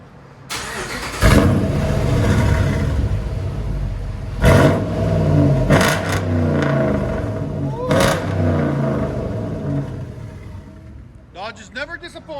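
A 2007 Dodge Ram 2500 with a HEMI engine and straight-pipe dual exhaust revs hard in several loud, deep roaring bursts over a steady rumbling idle, close by.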